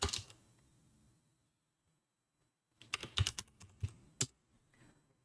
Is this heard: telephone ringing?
no